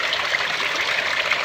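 Water pours steadily from a spout into a bucket holding catfish, a continuous close splashing trickle with no voices.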